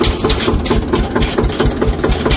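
A tractor engine runs loud and close on a village farm trip to the fields, its steady rhythmic chugging thump repeating several times a second with rattling vibration throughout, nobody speaking.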